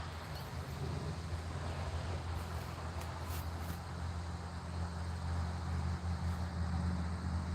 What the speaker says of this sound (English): We're on the side of a highway.